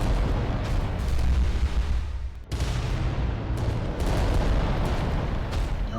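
Volcano cannon fire in the Warhammer game Adeptus Titanicus: Dominus, a dense, loud, continuous roar of blasts and booms with a brief dip midway before the rumbling explosions resume, no voices.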